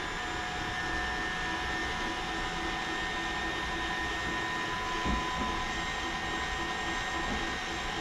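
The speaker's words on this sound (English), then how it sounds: "Turn our mixer back on so we have a nice smooth." An electric mixer beats sweet potato cheesecake batter with a steady whirring drone that holds at one level throughout, fairly faint and without speech.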